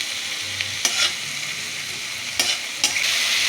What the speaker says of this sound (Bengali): আর আমি রসুনটা দিয়ে দিচ্ছি। দেখুন রসুনটা একটু থেতো করে রেখেছি, ওটা দিয়ে দিচ্ছি। সবই ভাজা ভাজা হবে।